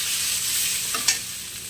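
Spinach fries in a pan with a steady, bright sizzle, and a single short scrape of stirring comes near the end.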